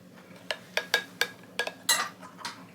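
Spoons clink sharply against a bowl while being switched during cooking of a smashed cucumber salad. Roughly nine close, bright metallic taps land at uneven intervals over faint background noise, with no talk.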